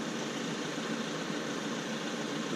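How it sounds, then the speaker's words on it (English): A Volvo car engine idles steadily, a constant broadband hum and rumble that stays at even loudness throughout with no voices. "So now I will go into every car and I will start it."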